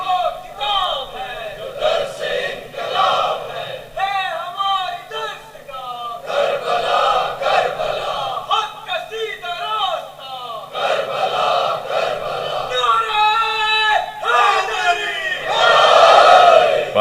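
A crowd at a Muharram majlis gathering chanting a religious slogan in response, loud massed voices rising together in repeated call-and-response waves, close and reverberant.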